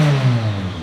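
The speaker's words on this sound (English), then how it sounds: "It's got a crazy bad exhaust leak" A short burst of a rear-wheel-drive Honda Civic engine revving up and easing off, loud and close, with a rough, rumbling exhaust tone from a bad exhaust leak.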